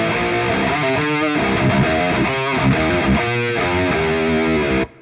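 Heavily distorted electric guitar played through a Celestion G12T-75 speaker impulse response, a dense, honky-midrange riff of chugging chords and sustained notes that cuts off abruptly at the end.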